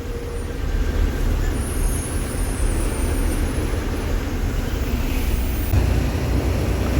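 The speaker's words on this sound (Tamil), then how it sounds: "இதுவும் திருவனந்தபுரம் பெங்களூர் வண்டி." A Thiruvananthapuram–Bengaluru bus rumbles nearby amid steady roadway traffic, a continuous low engine drone with a faint hiss of air brakes, and no voices.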